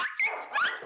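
Several dogs in the kennels at Battersea, just woken, give a short close burst of barking and growling with whining, yelping tones.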